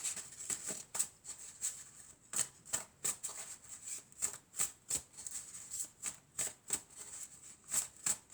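Oracle cards being shuffled and drawn by hand, giving a quiet, close run of soft riffling snaps and flicks in an uneven rhythm, with no voices.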